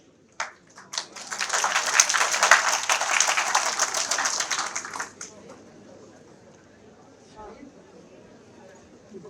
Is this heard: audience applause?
yes